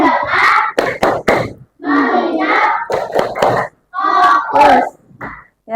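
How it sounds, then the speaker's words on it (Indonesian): A school class claps a rhythmic spirit chant in bursts, hand claps mixed with children shouting along in unison, with short pauses between phrases. "Kita tepuk semangat."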